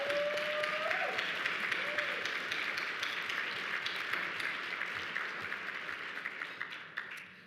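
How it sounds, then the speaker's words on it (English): Audience applause at a mathematics education conference session, a dense steady wash of clapping from a large room that holds for several seconds and tapers slightly toward the end. "So please give them all a round of applause."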